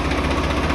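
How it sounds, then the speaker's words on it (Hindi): Sawraj 855 tractor engine idling shortly after a cold morning start, a dense steady rumbling chug with no gaps, loud and close with no voices. "ट्रैक्टर नूं सुबह सुबह स्टार्ट करिया, हाले ट्रैक्टर थोड़ा जिहा ठंडा"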